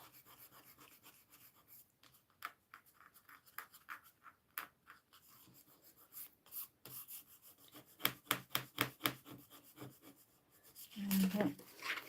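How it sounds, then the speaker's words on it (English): A finger rubbing dried glue off card, quiet close scratchy rasping strokes in irregular bursts, growing louder later, under and between talk. "Sometimes I can rub my glue off."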